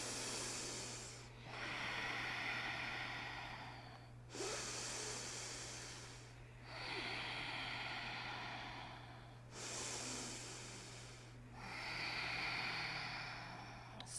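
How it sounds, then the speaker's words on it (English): Deep breaths during a yoga triangle pose: three long, slow breathing cycles, each a soft airy inhale-exhale rising and fading, close and steady over a low background hum. "Soften both knees and take 3 big breaths"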